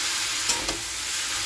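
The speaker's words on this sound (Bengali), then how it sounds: "ভাজা ভাজা করছি।" Vegetables for a chorchori are stir-fried in a pan, a steady close sizzle with a quick scrape or two of the spatula against the pan, no voices.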